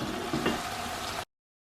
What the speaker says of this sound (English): Garlic and onions are sauteed and good to go.